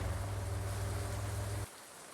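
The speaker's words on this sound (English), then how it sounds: "even though it's raining and we'll get wet" Steady rain in the Farming Simulator video game, a constant hiss of falling rain with a low rumbling layer that cuts off abruptly near the end, leaving quieter rain.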